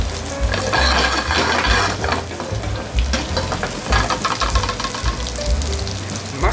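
Sliced garlic and butter fry in a pan for seabass poêlé, with loud, dense sizzling and crackling throughout and occasional stirring scrapes, close and continuous.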